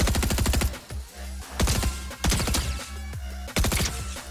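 Rapid gunfire in a Fortnite match rattles out in several loud, tightly spaced volleys separated by brief pauses, with no voices over it.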